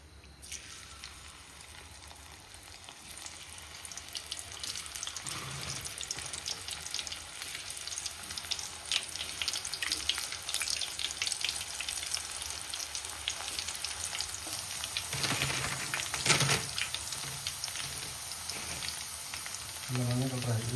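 Chips deep-frying in homemade coconut oil: a steady, dense sizzle and crackle of bubbling oil running throughout, with occasional stirring clatter, and a voice speaking briefly over it near the end.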